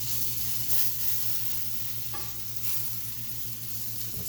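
Hash browns on a hot griddle fry with a low, continuous sizzle while being spread out to sear, with a faint scrape partway through and a steady hum underneath; no one speaks.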